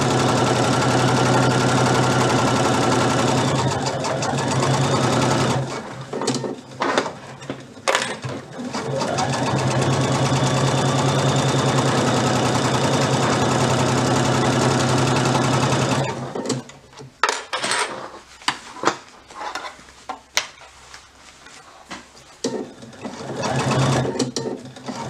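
An electric sewing machine runs a regular straight stitch in long continuous whirring stretches, then stops and starts in short bursts with clicks and handling noises between.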